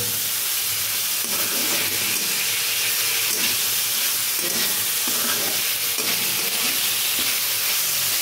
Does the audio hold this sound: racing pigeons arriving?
no